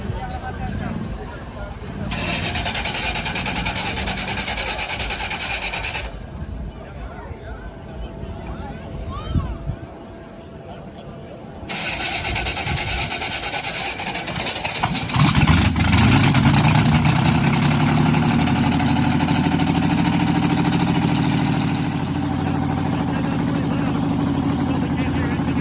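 At an outdoor classic car cruise-in, a 1979 Citroen's engine cranks and catches about two-thirds of the way through, then settles into a steady, loud idle. People talk nearby before the start.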